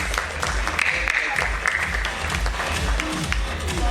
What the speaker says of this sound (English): Can we have an applause for ma'am, please?